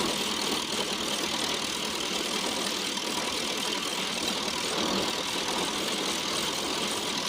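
An old vehicle called Zeb runs at a steady idle while warming up at midnight, a constant low engine drone with broadband rumble, close and unchanging, with no talk.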